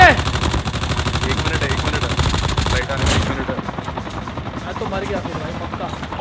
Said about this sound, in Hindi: भाई हेलीकॉप्टर वगैरह आ चुका है